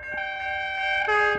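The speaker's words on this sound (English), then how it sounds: "Got a train ahoy." A train's horn blares in long, steady tones over a low rail rumble, growing slightly louder as it draws near, at night on an Australian railway line.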